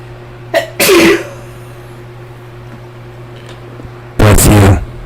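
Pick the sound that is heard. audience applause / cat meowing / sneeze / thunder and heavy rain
sneeze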